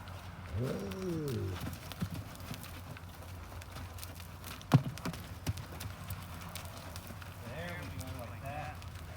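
Faint hoof clops scattered under outdoor background noise as a horse walks sideways, with a horse's snort or whinny at the start and again near the end.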